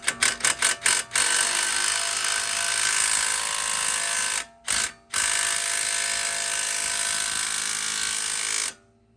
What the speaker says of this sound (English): I'm gonna use a small drill first